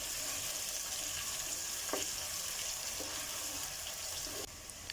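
Onions frying in half a cup of oil in a pan, a steady close sizzle with a few brief clicks and spatters, no voices.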